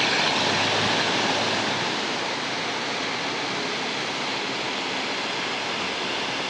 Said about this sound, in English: There's the waterfall that turned the,